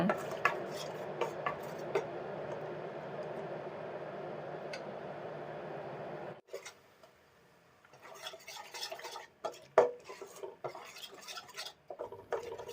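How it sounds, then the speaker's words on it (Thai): Coconut milk and Thai curry paste stir-fried in a pan for a water spinach and pork belly curry, with a steady scraping, stirring clatter of utensil against pan that stops partway, followed by lighter sporadic clinks and taps. "พอผัดกะทิกับพริกแกงได้ที่"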